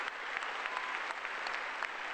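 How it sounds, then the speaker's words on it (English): Continuous crowd applause at a commencement ceremony honoring the teachers, a steady wash of clapping heard at a moderate distance with no talk over it. "a big round of applause for them for what they taught you all these years"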